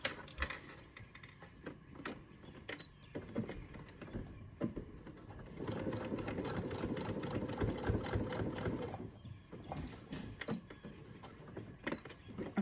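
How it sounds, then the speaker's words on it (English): Sewing machine top-stitching along a crease in fuzzy fabric for a wristlet, a steady close whirring run from about 5.5 to 9 seconds, with clicks and handling noises before and after. "we're just going to top stitch right along this crease."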